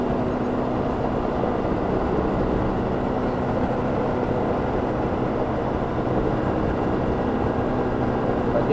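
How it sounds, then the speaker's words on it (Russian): Steady low engine rumble of tractors working a farm field, a broad droning noise with no pauses throughout. "Вот трактора работают."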